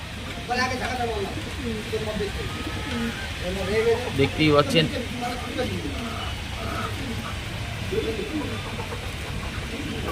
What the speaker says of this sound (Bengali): সুন্দর সুন্দর পায়রা এখানে কালো সবুজ এই একটা মেল দেখতে পাচ্ছেন